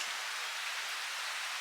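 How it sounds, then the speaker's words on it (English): Rain falls in Sicily during severe flooding, heard as a steady, even hiss of drops with no other sounds over it. "It's starting to rain now."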